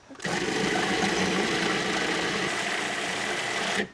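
A food processor purees butternut squash, apples and sweet potatoes in a steady, loud, continuous whir that starts abruptly and stops near the end, with no talking.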